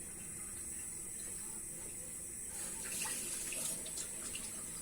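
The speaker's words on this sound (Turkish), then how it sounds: "şöyle çay suyumu da koyuyorum" Water is run into a kettle for tea, a soft, steady trickle in a home kitchen that swells slightly toward the end, with no talking.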